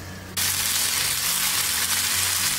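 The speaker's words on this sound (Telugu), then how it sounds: "వంకాయ మనకి కొంచెం వేగాలి." Brinjal frying in a pan for vangi bath, a steady dense sizzle that bursts in abruptly after a brief quieter moment and holds loud and constant to the end, with no voices.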